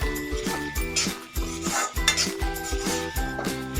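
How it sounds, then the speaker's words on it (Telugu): A spoon scrapes and clinks against a pan while egg pasta is mixed with Maggi masala, close and busy, with repeated metallic knocks, a constant clatter and a faint sizzle underneath, no voice. "మ్యాగీ మసాలా కూడా యాడ్ చేసుకొని బాగా మిక్స్ చేసుకుందాం"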